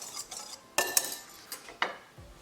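A spoon clinks and scrapes against a bowl while spices are mixed into pork loin back ribs, giving a few sharp, close taps and scrapes with quiet pauses between them.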